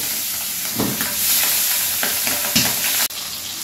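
Pabda fish pieces frying in hot oil with green chilies and chopped onion for a Bengali mustard curry, a loud steady sizzle broken by scraping stirs and a sharp clatter near the end.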